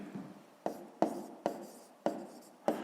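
Pen strokes on notebook paper during a fifth-grade maths exercise, six sharp scratching bursts spaced about half a second apart, close and distinct over a quiet room.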